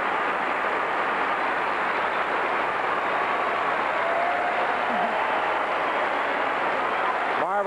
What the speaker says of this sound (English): Hand for her from this Pauley Pavilion crowd